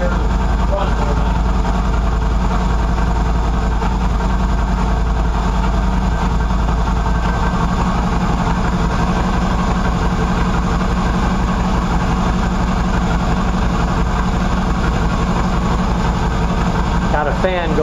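A Chinese-made Qlink QBK 250 Adventure motorcycle idles steadily after being started following a period of sitting, parked in front of a garage with a fan running nearby, a loud, close, continuous low rumble throughout.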